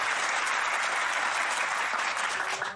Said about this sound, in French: Et le public applaudit.